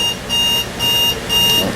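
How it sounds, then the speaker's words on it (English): An alarm goes off with a bright, repeating electronic beep pattern that pulses in regular bursts, loud and close, over a steady background hum. "That would be an alarm going off."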